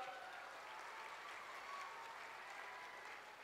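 Sustained applause from a political rally audience during Chandrashekhar Bawankule's speech, a dense, steady wash of clapping that stays loud throughout and has no voices on top.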